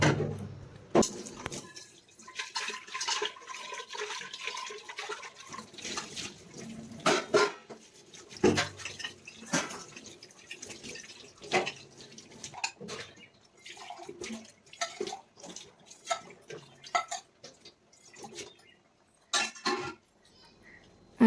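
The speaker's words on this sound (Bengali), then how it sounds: "কুকারে ডাল সিদ্ধ করেছিলাম তো সেগুলোকেও ধুয়ে নেব" Pressure cooker and dishes being scrubbed under a running kitchen tap, with irregular clinks and knocks of metal over a steady wash of water, close and fairly quiet, no talking.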